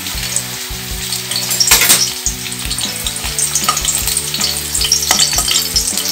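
Dried red chillies dropped into hot oil in a pan, the start of a ridge gourd chutney, give a steady bright crackling sizzle. It runs the whole time over soft background music.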